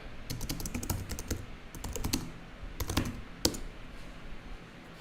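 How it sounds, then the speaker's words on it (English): Typing on a computer keyboard into a live chat, a quick irregular run of close key clicks in short bursts with brief pauses, steady and moderately quiet with no voices. "I typed in with this live chat thing on Facebook"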